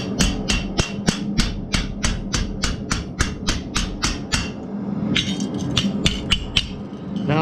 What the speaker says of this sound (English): I'm just gonna rivet that one down.